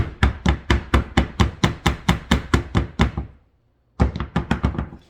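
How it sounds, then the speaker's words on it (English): A soap mold filled with cold process soap is banged down repeatedly on a work surface, about a dozen loud rapid thuds in a steady rhythm, a brief pause, then another quicker burst of knocks. "let's bang this down"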